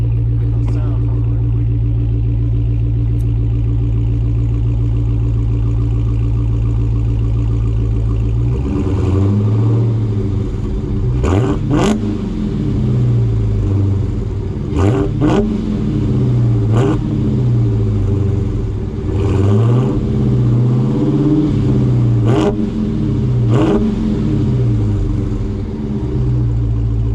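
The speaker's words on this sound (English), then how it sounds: "So now these valves are all the way open, and I'm gonna give you some gas" A Dodge Charger Hellcat with its exhaust valves open idles with a deep, loud rumble, then is revved several times in a row, each blip sharply rising and falling, with a person talking over the engine.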